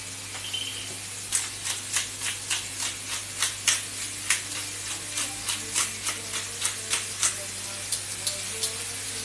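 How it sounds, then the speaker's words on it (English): King oyster mushrooms cooking over high heat with ground pepper going in, a quiet background sizzle broken by a regular series of sharp ticking clicks, like a grinder, with no talk. "I'm going to add a little bit of pepper into there as well"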